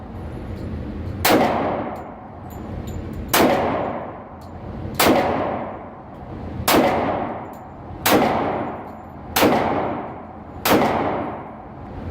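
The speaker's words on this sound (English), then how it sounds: "Okay, those are the first shots ever." A Kimber Super Carry Ultra Plus 1911 pistol fires Winchester White Box 230 grain ammunition at an outdoor range. Seven loud, sharp shots ring out about every second and a half, and each one decays into a ringing tail.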